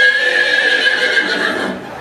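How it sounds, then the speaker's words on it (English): Horse neighing at a market: a single loud, close whinny lasting about two seconds, heard alone without talk. "you know that's a horse, don't you?"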